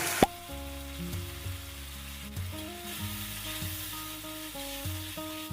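A ready-made spice paste and tomato paste fry in hot oil with a steady, moderate sizzle, while soft background music plays throughout.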